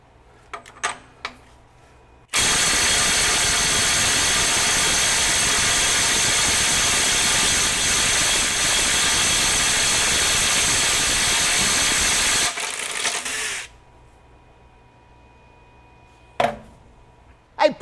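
Kobalt 24V brushless impact driver on a 2 amp hour battery breaking free a bolt torqued to 350 foot-pounds, a loud continuous hammering burst of about ten seconds that then tapers off, with brief clicks before and after.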